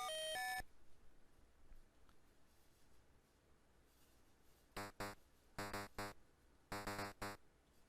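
Atari 2600 Pac-Man plays its death and respawn sounds: a brief high descending electronic warble, then a pause, then three clusters of bright, buzzy, phone-like beeps in quick rhythmic pairs, loud and clean against near silence.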